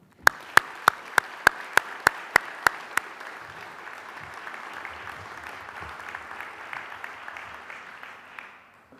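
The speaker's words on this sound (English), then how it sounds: "Please join me in applauding the achievements of our graduates from 1970 and" An audience applauding graduates at a ceremony, a burst of clapping that starts with a few loud, evenly spaced claps and swells into a sustained, reverberant applause from a large hall.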